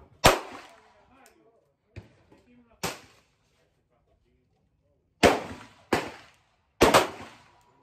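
A handgun fired with the right hand, canted 45 degrees, cracks out five sharp, loud reports at irregular intervals, each ringing off in a short decaying echo, with quiet stretches between.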